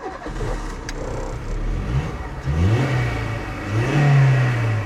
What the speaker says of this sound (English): And now it's revving again